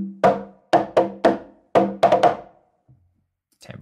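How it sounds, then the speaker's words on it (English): Conga drum hits from a sample library, played solo: seven or so dry, resonant slaps and tones in an uneven rhythm, close and loud, each decaying quickly, followed by a short pause and a faint sound at the end. "There's the conga by itself down in the bottom."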